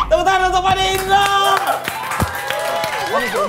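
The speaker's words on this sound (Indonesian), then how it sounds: "Tepuk tangan untuk Pak De Indro" An audience claps for Pak De Indro at an Indonesian talk show taping, a loud burst of clapping and crowd noise mixed with music tones and voices, fading as talk resumes.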